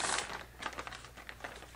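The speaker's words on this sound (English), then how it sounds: "plastic bag." Thick plastic bag from a Temu parcel being handled, soft irregular crinkling and rustling close by, fairly quiet, with no talk over it.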